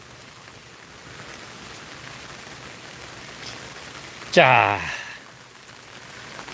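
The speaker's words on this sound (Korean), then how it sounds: "빗소리가 우산을 쓰고 있기 때문에 빗소리가 좀" Rain patters steadily on an umbrella on a rainy day at the entrance to Sosilbong hill in Yongin, with a soft, even hiss throughout and one brief spoken word partway through.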